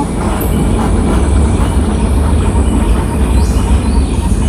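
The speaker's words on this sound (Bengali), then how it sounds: "এই যে একটা মেট্রো রেল মনে যাচ্ছে সম্ভবত" A metro rail train rolls past near jungle in Malaysia, a steady broadband rumble with faint rail hiss holding at constant loudness throughout, fairly close and continuous with no talk.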